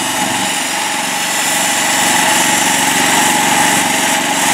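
Mastercraft tractor engine revving steadily while its wheels spin, stuck in a mud puddle; a continuous loud droning whine with rough low rumble, unbroken for the whole stretch, no talk over it.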